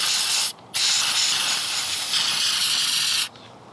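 An aerosol can of carburetor cleaner sprays in two close, loud bursts of steady hiss, split by a short pause, with a faint gap at the end.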